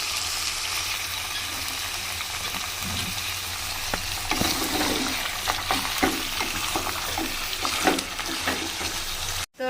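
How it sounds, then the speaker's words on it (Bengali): Kadaknath chicken meat fries in oil with whole spices: a dense, continuous crackle and sizzle up close, with rattling stirring scrapes and spitting pops scattered throughout and no voices, ending in an abrupt cut. "আর মাংসটা তো এই যে তেলের মধ্যে দিয়ে ভাজাভাজি চলতেছে।"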